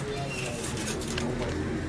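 Falak Sher pigeons cooing at a lofty in Lahore, soft low coos repeating steadily over a constant background hum, with faint voices mixed in.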